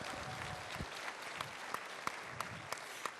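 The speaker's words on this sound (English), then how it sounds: "Please give her a warm round of applause." Light, distant applause from an audience at a voters forum greeting Mariko Yamada, a former California State Assembly member, with a few sharper individual claps standing out in a short, faint burst.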